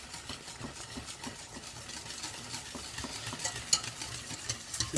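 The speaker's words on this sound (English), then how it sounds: "Keep them stirring." A thick lasagne sauce being stirred in a pan, with a steady soft scraping and a low simmering sizzle running throughout, up close and moderately quiet, with no voices.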